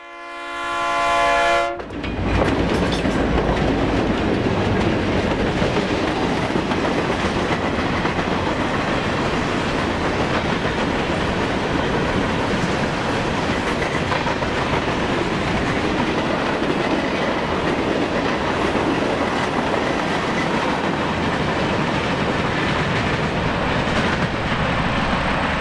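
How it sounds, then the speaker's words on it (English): Norfolk Southern freight train 401 passes eastbound at CP 190 in Enon, Ohio, on the Dayton District. A horn blast opens, then a loud, sustained roar of wheels and cars rolls past close by for the rest of the stretch. "Final train number 401 is eastbound at CP 190 at Enon, Ohio."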